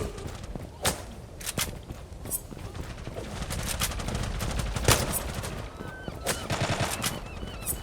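Gunfire in the ONBx Legacy video game, a rapid series of sharp shots in bursts and single cracks, fairly close and loud, amid busy in-game background noise.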